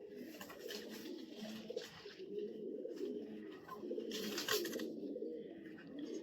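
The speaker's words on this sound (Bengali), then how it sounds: "হ্যাঁ, এটা হচ্ছে কবুতর" Tournament and poultry racing pigeons in a loft coo continuously, several birds overlapping in a low, steady murmur with brief brighter rustles and calls, no voices present.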